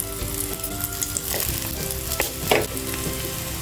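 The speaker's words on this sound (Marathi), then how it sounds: "तेल चांगलं तापलं आहे ह्या वड्या सोडून घेऊया" Coriander vadis shallow frying in a little hot oil, a steady close sizzle and crackle with a few sharper spitting pops, no voices.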